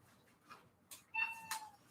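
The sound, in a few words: cat meowing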